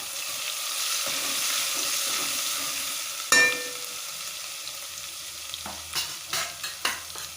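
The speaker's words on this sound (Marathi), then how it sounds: "लसूण घालायचा भरपूर लसूण जरा परतून घेऊया" Plenty of garlic with curry leaves sizzles loudly in a pan, then a sharp clack is followed by several distinct spoon scrapes and stirring strokes near the end.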